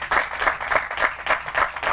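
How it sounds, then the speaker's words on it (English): An outdoor crowd claps at a Precinct 1 Valdez Road groundbreaking ceremony, with moderately loud, rhythmic bursts of applause from a modest group. "let's give everybody here a big round of applause that were involved with this project"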